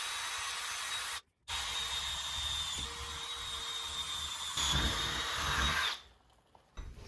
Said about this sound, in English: make sure your drill bit is straight when you're drilling through this door